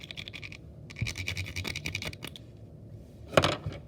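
Graphite pencil scratching over dark painted surfaces on the interior of a model abandoned airplane: a run of quick, close, dry scratchy strokes in bursts, with a brief pause and a sharper scrape near the end, no talking.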